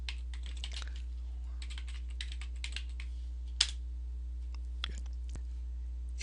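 Quiet, rapid keystrokes on a computer keyboard while typing a chat message, irregular clusters of light clicks over a low steady hum, with no speech.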